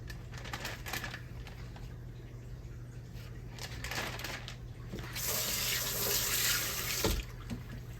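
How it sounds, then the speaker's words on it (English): Steady sizzling with scattered crackles and pops of grease frying chicken in a pan, growing louder and denser partway through, a close frying sound. "You can hear that grease popping over here, y'all."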